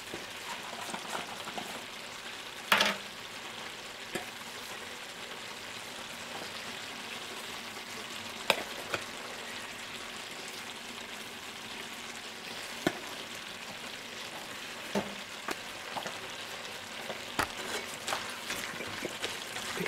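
Homemade soup sizzles softly in the pot as oregano is stirred in, a continuous faint hiss and crackle broken by occasional sharp clicks and clinks of the spoon against the pot.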